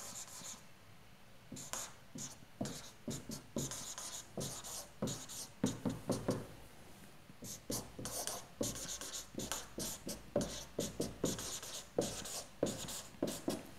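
Marker or chalk writing an energy conservation equation on a board in a physics lecture, a steady run of close scratchy strokes and taps with brief pauses, no talking.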